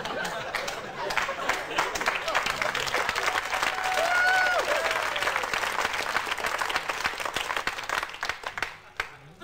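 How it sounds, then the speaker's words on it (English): A comedy club audience bursts into prolonged applause and cheering at a stand-up set, dense clapping that swells, holds steadily and then tapers off, with some chatter mixed in. "You clapped too long."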